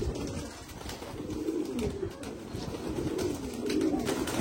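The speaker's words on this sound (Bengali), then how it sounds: "এটা আমাদের একটা মাদি পায়রা, খুব ভালো পায়রা" A female pigeon coos low and close in a repeating, throaty pattern over soft background noise.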